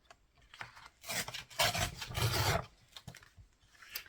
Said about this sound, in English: I've got this other one, and I'm going to cut in half. I will use my trimmer for this one.